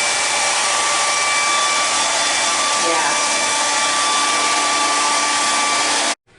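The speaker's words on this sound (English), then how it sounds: "I'm done blow drying my hair." Hair dryer blowing steadily while hair is blow-dried at home for a silk press, a loud, even whooshing hum that runs unbroken for about six seconds before cutting off abruptly.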